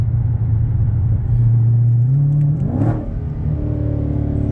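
Mopar car engine revs with a deep exhaust rumble, a loud close throaty roar swelling and climbing in pitch, then dropping back to a steady idle, with no talk over it.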